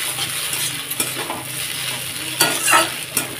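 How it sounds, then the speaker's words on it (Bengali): Cabbage chow chow noodles with masala stirred and fried in a pan: steady sizzle with repeated scraping stir strokes, louder clatters near the end, close and alone. "এখন একটু নাড়াচাড়া করে শুধু নামিয়ে নেওয়ার পালা"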